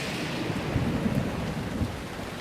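Steady rain falls in a video game thunderstorm, a dense continuous hiss with low rumbling thunder rolling underneath, even and unbroken throughout with no voices.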